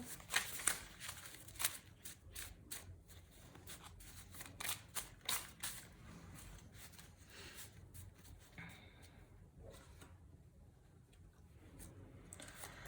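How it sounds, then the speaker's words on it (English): Tarot or oracle cards are shuffled quietly for a pick-a-pile reading, a close run of soft riffling snaps and slides that thins out toward the end. "Okay, one more shuffle."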